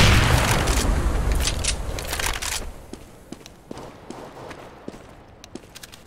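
A grenade blast in CS:GO opens with a loud, deep boom that rolls off over about two seconds, followed by scattered light footstep clicks and faint knocks in a quieter game background.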